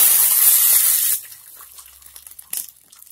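Water poured into a pan of hot oil with mustard seeds and green chillies sets off a loud hissing spray for about a second, then dies to faint crackles and a brief sizzle.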